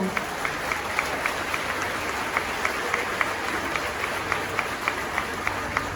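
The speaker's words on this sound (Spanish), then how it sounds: "un aplauso para el Señor" An audience at a church retreat applauds steadily throughout, a dense wash of clapping from a large crowd in a hall with distinct individual claps repeating in a rhythmic pattern.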